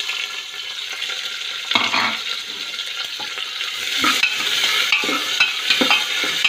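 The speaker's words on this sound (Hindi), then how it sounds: "थोड़ा सा भूनने के बाद हम इसमें ऑनियन डालेंगे" Onion frying in oil with dry prawns for a cluster bean sabji, a close sizzle that swells as the pan is stirred, with scraping and clinks over the hiss and no talking.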